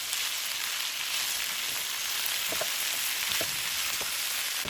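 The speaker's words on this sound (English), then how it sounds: "Fry 1 minute." Frozen chickpeas and cabbage fry in oil in a pan for a mixed-vegetable khichuri, giving a steady, dense sizzle throughout with a few soft stirring knocks near the end and no talking.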